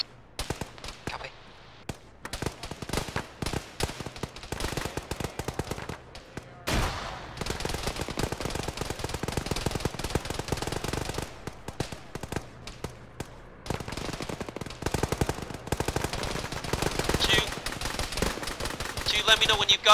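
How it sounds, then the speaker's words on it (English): Gunfire rattles through a firefight in the military game Arma, with bursts and single shots cracking in irregular clusters, some close and loud, others more distant, nearly continuous for the whole stretch. "There's dudes fucking shooting you in the side."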